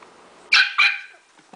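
A playful dog lets out two sharp barks in quick succession, close and loud, with quiet moments before and after.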